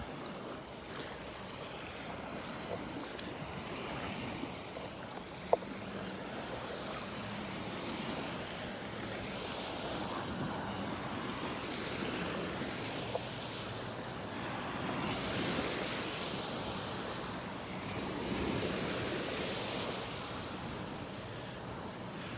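Ocean waves surge and wash up over a beach in North Naples, Florida, a continuous rolling roar with swelling crests under steady wind noise on the microphone, with no voices.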